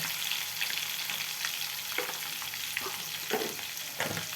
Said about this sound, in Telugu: బాయిల్ చేసుకున్న ఎగ్స్లు ఫ్రై చేసేటప్పుడు కొద్దిగా సాల్ట్ కొంచెం కారం వేసుకొని ఫ్రై చేసుకోవాలన్నమాట